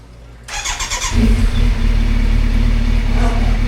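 Vehicle engine starting with a quick cranking stutter, then catching and revving into a loud, steady close-up roar that holds to the end, alone without talk.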